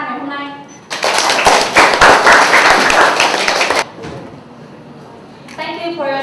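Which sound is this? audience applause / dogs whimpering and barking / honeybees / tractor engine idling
audience applause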